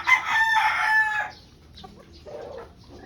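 A white Kelso gamefowl rooster of straight-comb, high-station stock crows loudly and close by for about a second, then goes quiet apart from soft clucks and faint background bird and farm sounds.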